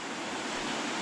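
River water rushing past cliffs through a narrow gorge, a steady broadband roar of flowing water, fairly loud and unbroken with no talk.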